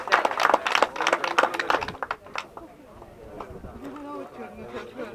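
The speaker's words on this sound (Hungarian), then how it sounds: "Nagy tapsot kérnénk szépen," Brief bursts of hand clapping from an audience at a rally award ceremony, strong for about two seconds, then fading into quieter murmuring and voices.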